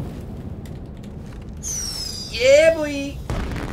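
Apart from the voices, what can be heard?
firework launched in the video game Astroneer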